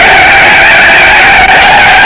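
A Ferrari 458 Italia does a burnout drift with a loud, continuous tire skid and roar that barely changes from start to finish, heard close up with no voices.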